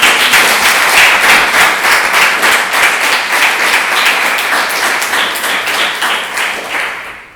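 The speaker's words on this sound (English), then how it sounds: "So I would like to give a big applause to those people." Loud, close applause from an audience at a coding bootcamp demo day in Milan, many hands clapping rapidly and evenly, fading out toward the end.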